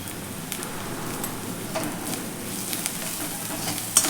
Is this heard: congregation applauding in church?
no